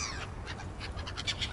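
Several birds call faintly outdoors in a quick series of short chirps and caws, with no talking and a low background hum.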